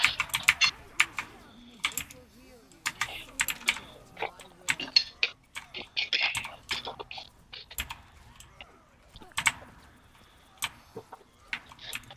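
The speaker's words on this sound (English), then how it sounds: "Listen to Stabby type." Frantic typing on a computer keyboard during a game, irregular clusters of sharp, close clicks and key thumps spread across the whole stretch, with some quiet talk underneath.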